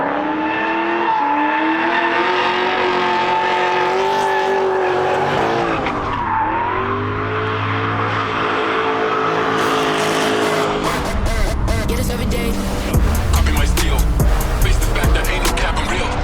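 Drift cars sweeping past at the Drift X drifting festival in Australia, engines roaring and rising in pitch, then a loud rasping tire squeal and rattling exhaust as a car slides by close, with no talk.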